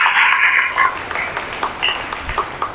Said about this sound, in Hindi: ताली बजाते यीशु को धन्यवाद करें